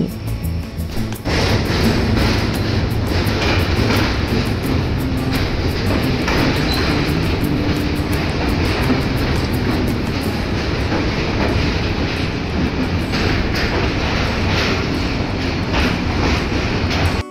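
The 13147 Uttarbanga Express runs toward New Farakka Junction, heard from inside as a loud continuous rumble with rhythmic clicking of wheels over rail joints, steady throughout with no talk.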